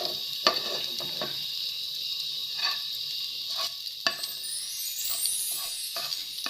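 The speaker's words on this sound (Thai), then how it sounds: "ตอนนี้ ใส่กระเทียมเจียวลงไปนะคะ" Garlic sizzling in hot oil in a pan for a Thai minced pork omelette, a steady bright hiss punctuated by a few clinks and scrapes of stirring.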